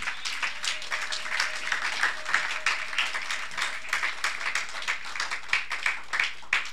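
A church congregation applauds for the Lord, a steady, energetic round of many hands clapping in a large room, with irregular louder claps standing out throughout.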